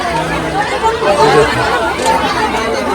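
A crowded train station platform on the Santragachi to Digha special local train route fills with loud, continuous babble from many overlapping voices, close and busy throughout.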